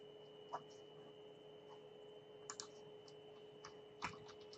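Sparse, faint keystrokes tap on a computer keyboard at an amateur radio station, a few isolated clicks over a steady low electrical hum with no talking.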